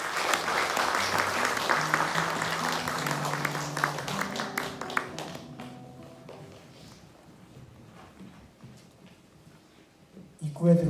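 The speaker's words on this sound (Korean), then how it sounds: "박수로 부탁드립니다." Applause from an audience at a first-anniversary memorial concert swells loudly at first, then thins out into scattered claps and fades toward quiet, with a few low voices murmuring under it and a brief louder bump at the end.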